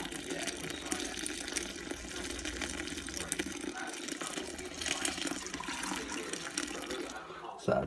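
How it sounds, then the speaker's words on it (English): Liquid pours and trickles steadily as elderberry wine drains through a cloth into a bucket, a close continuous splashing gush with faint background sounds. "So that'll drain through a little bit,"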